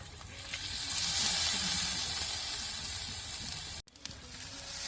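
Cabbage paratha frying on a hot griddle with oil added around its edges gives a steady, close sizzle that briefly cuts out near the end, then resumes with a few small pops.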